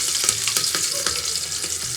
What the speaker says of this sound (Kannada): ಒಗ್ಗರಣೆಗೆ ನಾನು ಬ್ಯಾಡಗೆ ಮೆಣಸಿನ್ಕಾಯಿ ಮತ್ತು ಕರಿಬೇವು ತೊಗೊಂಡಿದ್ದೀನಿ